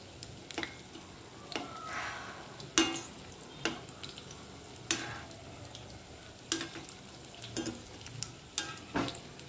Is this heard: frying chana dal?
yes